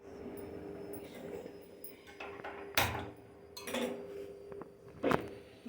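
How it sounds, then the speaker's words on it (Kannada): Metal pressure cooker set down in a home kitchen while making leafy greens sambar: a few sharp clanks and clinks of metal on a hard surface over low kitchen background noise, no talking. "ಮೊದಲಿಗೆ ಕುಕ್ಕರ್ ಇಡ್ತಾ ಇದ್ದೀನಿ ನಾನು."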